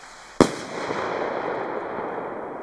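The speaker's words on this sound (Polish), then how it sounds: "Im wyżej rakieta leci, tym efekt będzie mniejszy, wiesz?" A firework rocket from a Biedronka New Year's Eve set bursts with one sharp, loud bang, followed by a long fading crackle and rumble.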